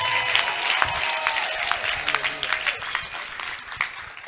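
A church congregation applauds during a testimony service, a steady wash of clapping that runs the whole time while a voice speaks over it.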